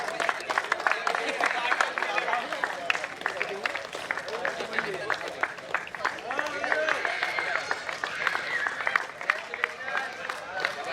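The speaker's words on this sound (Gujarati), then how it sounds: "વિનર્સ ટીમ માટે એકવાર આપણે જોરદાર તાળીઓ." A crowd gives sustained, dense clapping for the winning team at the Western Premier League prize distribution ceremony, with voices mixed into the applause.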